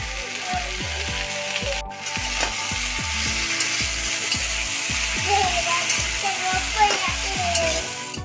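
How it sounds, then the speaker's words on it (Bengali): Okra and potatoes fry in a pan with salt and turmeric. A spatula scrapes in a steady, regular rhythm over continuous close sizzling. "ঢ্যাঁড়সগুলো দিয়ে দেবো ভাজার জন্য। একটু একটু নুন হলুদ দিয়ে ভেজে নেব।"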